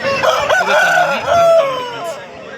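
A rooster crows loudly and close by at a poultry market, one long drawn-out cock-a-doodle-doo filling the whole moment.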